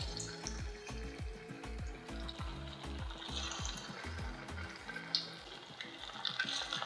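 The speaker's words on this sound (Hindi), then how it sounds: "अब इसे हम डालते हैं गर्म तेल में।" Kachoris frying in hot oil give a soft, steady bubbling sizzle, quiet and continuous, with faint clinks and rhythmic low tones in the background.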